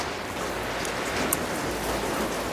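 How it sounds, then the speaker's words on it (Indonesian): Steady rain falls, a dense even hiss with no clear single drops, close and moderately loud throughout. "hujan nih teman-teman ya"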